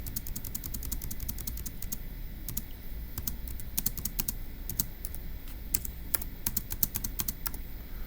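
Rapid, continuous keystrokes on a computer keyboard, close and crisp, running steadily for several seconds over a constant background hiss with no talk.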